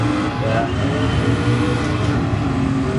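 A race car engine roars steadily in a racing video game, driven with traction control on, a continuous loud drone holding through the whole stretch with no talk over it.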